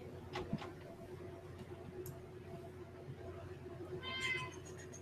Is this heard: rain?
no